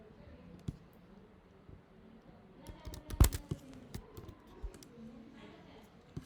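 A computer keyboard tapped in bursts of quiet clicks while typing into a terminal, uneven and close, with a cluster of sharper keystrokes near the middle and a low voice murmuring faintly underneath.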